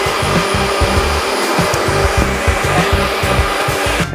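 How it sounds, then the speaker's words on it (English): A blender whirs at full speed through a banana cocktail with ice, loud and close, its motor droning steadily with a rapid churning pulse throughout. "Keep it cool, add some ice. Blend, my beauty."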